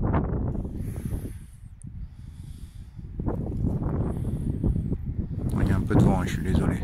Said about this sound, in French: Il y a un peu de vent, je suis désolé.